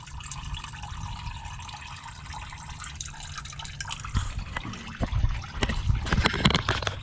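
Irregular watery drips and small splashes close by from water leaking out of a car's oil pan, growing busier toward the end over a steady low hum.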